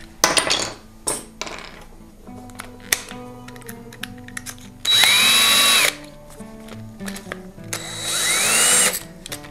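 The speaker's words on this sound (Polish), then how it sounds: "Krętarka." Cordless drill driver turning a 6 mm bit, heard close and loud in short bursts, then two sustained runs with rising whine and a brief pause between, amid handling clatter in a workshop.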